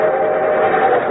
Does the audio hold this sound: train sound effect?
yes